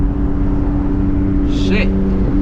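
A BMW E36 328i with a manual gearbox and loud aftermarket exhaust drones under acceleration at night, a steady low engine hum heard from inside the car, with a brief higher whine or shift sound partway through.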